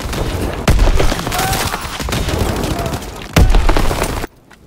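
Call of Duty WW2 battle with a detonated charge exploding: two sharp, heavy blasts rise out of continuous loud gunfire and rumbling combat noise before it cuts off abruptly.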